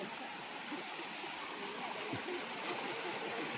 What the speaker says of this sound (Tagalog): may bumabagsak na tubig dyan sa falls